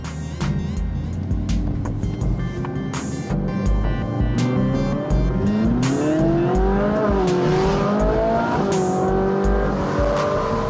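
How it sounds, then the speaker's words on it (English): Car engine pulling away and accelerating, the revs climbing in steady pitch sweeps over a constant road roar, loud and close throughout, with no talk. "This is my commuter car, so I drive it every day to work."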